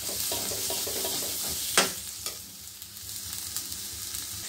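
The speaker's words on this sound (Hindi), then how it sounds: "उसको मैं तड़का लगा के मैंने इसे भून लिया है" Steady sizzling of spices frying in a pan, with a few light stirring scrapes and clinks near the start, no voices.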